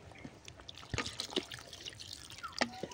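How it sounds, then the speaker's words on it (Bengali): A little water poured into a pot of ghugni made with peas and potato produces a soft, close trickle with scattered drips and small splashes, quiet and without talk. "এখানে আমি দেব আর একটু অল্প জল।"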